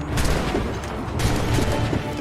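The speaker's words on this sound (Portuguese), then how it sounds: "Porque tem que atravessar no meio dos tiros." Rapid bursts of video game gunfire crackle and boom, dense volleys of shots overlapping, loud and continuous.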